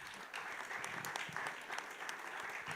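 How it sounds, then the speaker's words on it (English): Applause from an audience at a Rotary club presidential speech, a steady and fairly dense clapping that holds evenly for nearly three seconds at moderate distance. "So friends, a big round of applause."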